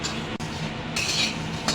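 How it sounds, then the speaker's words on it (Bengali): Vermicelli for semai payesh is stirred and fried in a pan, with a metal spoon scraping and clinking against the pan over a continuous frying hiss. A sharp utensil knock briefly punctuates the sizzle. "সেমাইগুলো এভাবে নাড়াচাড়া করে ভালো করে লাল লাল করে ভেজে নেব"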